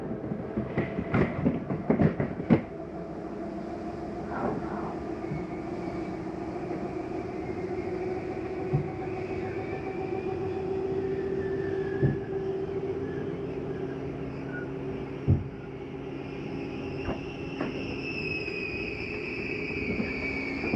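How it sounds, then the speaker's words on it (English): RV slide-out mechanism on a 2022 Flagstaff Classic 8529CBS travel trailer retracting the slide: a steady mechanical motor drone with a few clicks and knocks, heard up close with no talking. "That's the slide mechanism telling the unit I'm all the way in or I'm all the way out."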